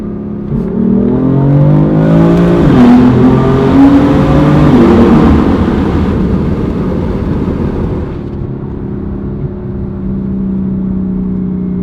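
A BMW M4 engine revs loudly in a tunnel, its pitch rising and falling in long sweeps and echoing off enclosed walls before settling into a steady drone.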